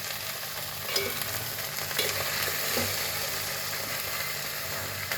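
Cluster beans and onions sizzle in a hot pan with cumin as a spoon stirs them, steady frying hiss broken by a few scraping knocks of the utensil against the pan.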